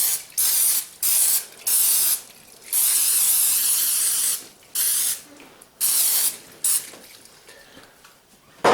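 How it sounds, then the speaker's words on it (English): Several short bursts of cooking spray hiss loudly in quick succession, then a longer sustained spray, then a few more short spurts, close up. "I'm going to give these a good spray with my cooking spray."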